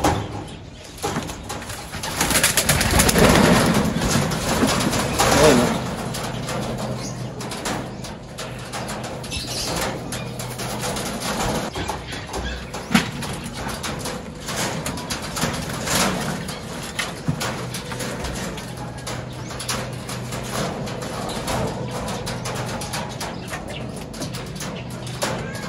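Racing pigeons at a loft coo steadily and wings flap in occasional bursts, heard against outdoor ambience, with a louder flurry of activity early on.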